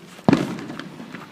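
Small illegal fireworks bursting in a residential neighborhood: one sharp nearby pop followed by a crackling tail and fainter scattered pops.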